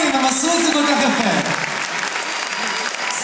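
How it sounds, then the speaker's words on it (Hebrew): An audience at a dance studio's final recital claps loudly and steadily for the dancers, the applause fading slightly toward the end, with a voice speaking over it. "חבר'ה, מחיאות כפיים, מחיאות כפיים"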